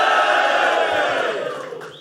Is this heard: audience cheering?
yes